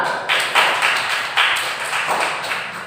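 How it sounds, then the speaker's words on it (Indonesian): Classroom students clap for a classmate after she answers, a burst of light, uneven hand claps that swell and fade across the moment, fairly close. "tepuk tangan untuk Nur"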